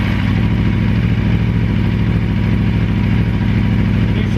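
Aprilia RSV motorcycle exhaust with the butterfly valve open, a loud, deep, steady engine rumble running close and continuous throughout.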